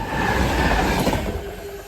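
A train rolls through the Hett Mill level crossing, a steady, loud and close rumble with rail noise that holds for a couple of seconds, no voices.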